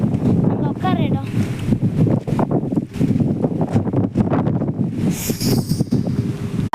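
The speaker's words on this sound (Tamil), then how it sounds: "செம்மையாக காற்றடிக்குதுங்க கைஸ்." Strong wind buffets the microphone at a garden with constant low rumble, while a person talks in Tamil throughout and a brief higher rush of air passes near the end.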